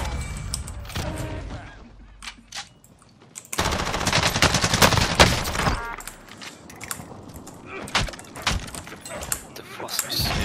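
Automatic gunfire in Call of Duty Warzone crackles in loud, dense bursts, with a sharp intense volley in the middle and scattered shots and mechanical clatter around it, while a player talks over the action.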